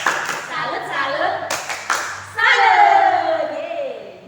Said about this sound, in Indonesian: Ayo kak, kita tepuk salut.